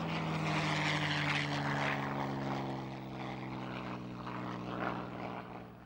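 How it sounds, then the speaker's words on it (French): A P-51 Mustang with a Merlin engine drones with a deep, steady propeller roar, loud and sustained throughout with no voices. "Le Merlin fait un bruit bien distinct."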